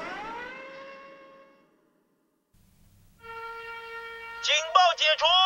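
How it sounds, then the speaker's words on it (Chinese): A wartime air raid siren in 1940s Japan sounds the all-clear, one long wailing tone that fades to silence, followed by a steady siren tone rising again with warbling, stuttering pulses near the end. "警报解除。"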